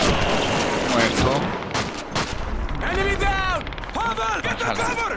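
Machine gun fire in the Call of Duty 2 video game: steady bursts of rapid shots and explosive cracks fill the clip, with voices calling out over the gunfire.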